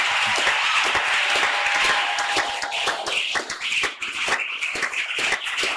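A church congregation at a Tuesday worship service claps loudly and steadily in dense applause. The clapping is strongest at first, then becomes slightly more ragged and rhythmic. A faint voice can be heard underneath.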